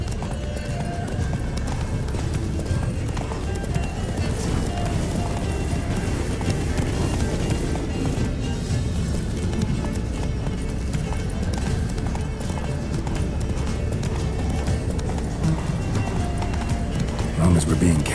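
Roach, the horse in The Witcher 3, gallops in a steady rapid clip-clop of hooves under a dense wash of game noise and music, with voices talking over it and a brief whinny.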